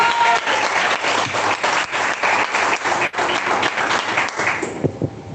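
A church congregation applauds with brisk, lively clapping that fills the room, ending abruptly near the close.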